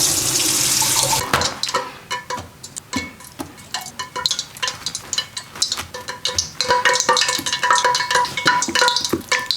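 Water gushes from a kitchen tap, then splashes and patters irregularly as raw chicken pieces are handled and rinsed under it, with occasional knocks against the sink.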